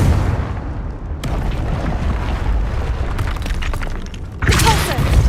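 A loud, sustained spell blast in Hogwarts Legacy, with a rumbling low roar across the clip and a fresh, sharper burst near the end.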